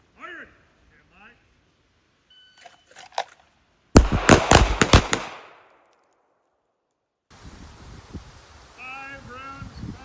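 A pistol firing during training on a range: a loud, sharp burst of cracks with ringing echo, with brief voices before and after.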